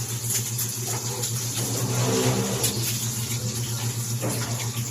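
Tap water runs steadily over food being washed before cooking for a birthday gathering, a continuous close splashing stream with no voices.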